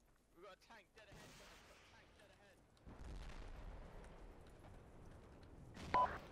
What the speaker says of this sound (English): we're taking heavy fire between Charlie and Bravo